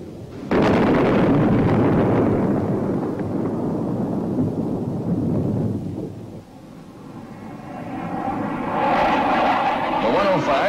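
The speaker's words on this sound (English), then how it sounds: "The 105 also delivers its punch on enemy targets by dive bombing." Bombs detonating in an F-105 dive-bombing attack, a loud sustained rumbling blast that rolls on for several seconds, dips briefly, then swells again with a second roar.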